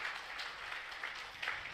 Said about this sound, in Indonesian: Yang percaya tepuk tangan buat nama Tuhan.